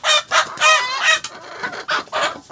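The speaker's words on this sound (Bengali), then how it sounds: "এই সেই মুরগিগুলো যারা রেডি হয়ে গেছে অনেকটা" Farm chickens cluck and squawk in quick, loud bursts close by, with a brief crow-like call among them and no talking.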